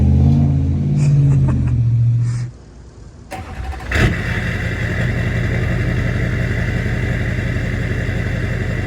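Duramax LBZ diesel pickup truck fitted with an aftermarket exhaust: after a short pause the engine catches and settles into a loud, steady, close-up idle rumble with a deep throaty exhaust note.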